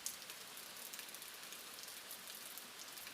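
Steady rain pours through the Amazon rainforest during a storm, a dense, even hiss of drops on leaves and surfaces that stays constant from start to finish with no voices.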